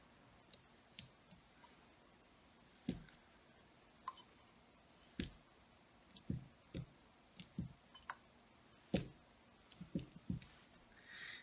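Wet bare feet stepping out of a shower onto a river rock bath mat, giving soft, irregular squishy taps and clicks, spaced sparsely and quiet, with no voices.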